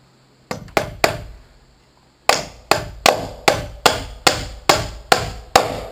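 Hammer blows nailing a joist hanger during a garage build: three quick strikes, a pause, then a steady run of about ten sharp, ringing metallic whacks, close and loud.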